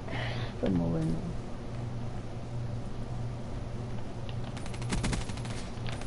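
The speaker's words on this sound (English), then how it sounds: "He's just sniping with a shotgun from a window." Shotgun blasts ring out in the video game Call of Duty Black Ops 3, a few sharp cracks spaced apart over a constant hiss, with a voice briefly heard.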